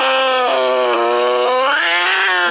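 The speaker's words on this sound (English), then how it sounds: "it was a cat screaming" A cat's drawn-out, wavering scream from a scary ringtone plays loud and close without a break, rising and falling in pitch across its length.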